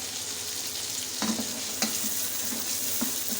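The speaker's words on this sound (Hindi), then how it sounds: "अब मैं इसको चम्मच के साथ इसको मिक्स करूँगी।" Boiled chickpeas and cumin sizzle in a frying pan while a spoon stirs them, giving a continuous close crackle broken by several sharp scraping clicks.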